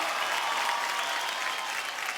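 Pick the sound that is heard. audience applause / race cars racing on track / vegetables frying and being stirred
audience applause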